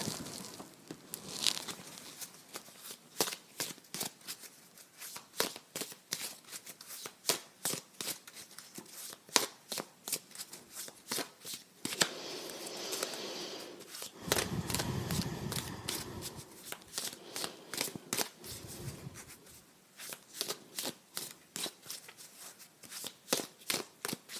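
Starseed oracle cards being shuffled by hand in repeated crisp riffles and flicks, close and fairly quiet, with brief pauses and handling rustles between bursts.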